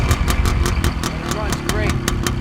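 A 1966 Greeves 24TFS motorcycle engine idling nearby, a loud steady two-stroke putter with regular pulses.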